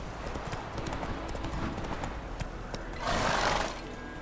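Horse galloping in The Witcher 3 video game, with steady rapid hoofbeats throughout, a brief snort or whinny near the end, and the rush of movement in the background.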